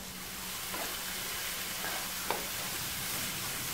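Beetroot halwa cooks in a pan with a soft, steady sizzle and low bubbling, punctuated by a few faint scrapes and one small clink from stirring; fairly quiet, no speech.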